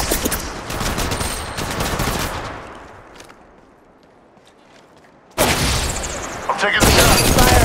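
Bursts of automatic gunfire from the video game Apex Legends, with loud, rapid shots at the start, a quieter lull in the middle, then an abrupt return of heavy, close firing at the end.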